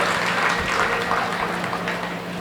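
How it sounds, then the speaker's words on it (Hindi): An audience at a Hindi comic poetry gathering applauds the poet Sunehari Lal, a steady wash of clapping that holds fairly even throughout without any voices. "तुरंत एक बार ताली बजाए सम्मान।"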